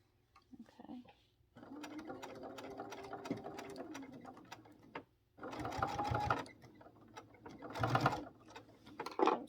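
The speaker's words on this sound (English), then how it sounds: "Don't sew over your pins." A sewing machine stitches apron fabric in several separate bursts of rapid mechanical whirring, with short pauses between runs, close up and fairly loud.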